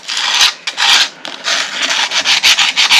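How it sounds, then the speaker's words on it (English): Sandpaper rubbing briskly over a small handmade craft mushroom for a fairy garden, a close, dry rasping in quick repeated strokes with short pauses between. "And I'll grab a little bit of sandpaper."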